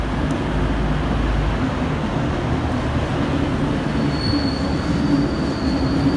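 A V/Line VLocity diesel train passes close by at the North Melbourne flyover, a loud steady rumble of wheels on rail with a thin metallic squeal running through it.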